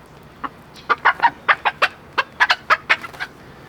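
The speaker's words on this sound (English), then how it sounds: "Cluck Norris is already in the coop." Chickens in a backyard coop give a run of about a dozen short, sharp clucks in uneven bursts, close and fairly loud over a quiet background, with no talking.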